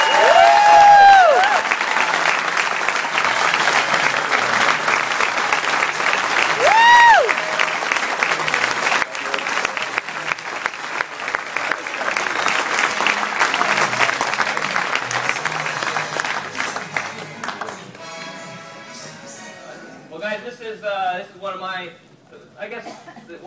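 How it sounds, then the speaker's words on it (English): A large convention audience gives a sustained round of applause as a man is called up to the front, the dense clapping fading toward the end while a voice speaks over it. "could you please give him a round of applause?"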